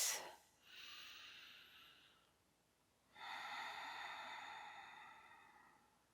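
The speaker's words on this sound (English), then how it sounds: "And then observe a few deep breaths." Two slow, deep breaths taken while lying in a yoga resting pose, each a soft airy rush close by, the second longer and fuller, with quiet stillness between and no talk.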